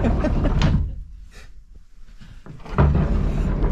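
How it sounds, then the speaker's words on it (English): An old pocket door slides shut in a vintage house, a rumbling roll ending in a soft thud, then rolling again, close and fairly loud with no talking. "Pocket door still works on this side."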